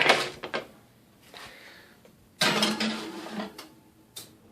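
A tray of sea-salted almonds slides into an oven for roasting, with a few sharp metallic clatters and a door-like thump, close and fairly loud between quiet gaps.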